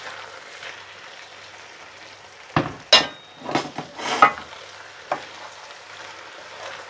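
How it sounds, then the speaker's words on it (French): Rice being stirred into a vegetable mixture in a pan, with a few scraping, clattering utensil strokes over a faint sizzle, close by and intermittent. "Et maintenant, on ajoute le riz à notre mélange."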